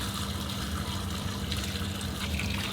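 Water poured steadily into a basement sump pit, a continuous close splashing gush that holds level throughout with no talk.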